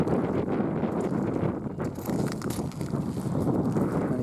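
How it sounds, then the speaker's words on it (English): Strong, gusty wind buffets the microphone outdoors at a carp fishing lake on a rainy day, producing a continuous loud, rumbling roar with surging gusts and no talking. "I'll show you how windy it is out there"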